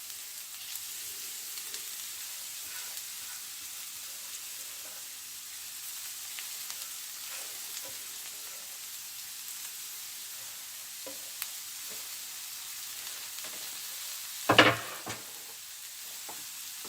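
Carrot and fennel stalks sizzle steadily in a pan with onions, a constant close frying hiss broken by faint stirring scrapes and one louder clatter near the end.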